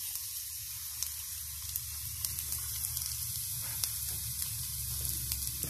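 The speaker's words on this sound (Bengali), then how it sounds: "তারপর গার্লিকগুলো অয়েলে দিয়ে দিবেন।" Garlic fries in a little oil in a frying pan, giving a steady soft sizzle with small crackles and pops scattered throughout, quiet and close with no talking.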